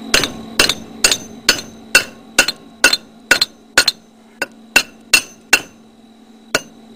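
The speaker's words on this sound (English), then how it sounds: "Don't be afraid to hit it with a hammer." A hammer strikes the welds on a steel dual permanent magnet rotor for a wind turbine: about thirteen sharp, ringing metallic blows at a fairly even pace, close and loud, each leaving a brief clang.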